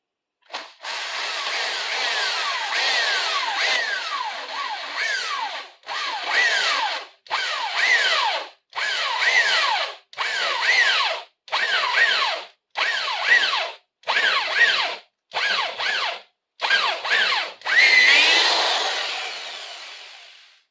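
A hot drill bit bores into a dense wooden broom handle in a long series of close whining bursts, each a second or so, separated by brief pauses, with the bit winding up and slowing repeatedly.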